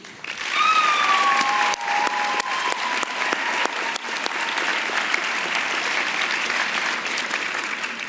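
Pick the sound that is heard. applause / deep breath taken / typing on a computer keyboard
applause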